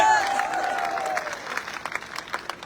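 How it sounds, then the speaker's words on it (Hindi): Scattered crowd clapping at an outdoor political rally marking the start of a march, uneven and tapering off in short bursts. "जरा ताली बजा के बताओ"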